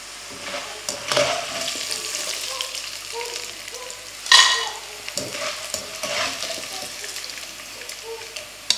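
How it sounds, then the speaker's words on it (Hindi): Edible gum (gond) fries in hot oil on a high flame, giving a continuous close bubbling sizzle with occasional stirring clinks and a sharp metallic scrape partway through. "हाई फ्लेम पे इसको अच्छे से आपने ना फ्राई करना है"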